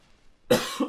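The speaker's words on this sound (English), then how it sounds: "I've been having this cough for a while now." A single short, sharp cough from a person with a lingering cough, close and fairly loud, bursting out of near silence with a quick second push at the end.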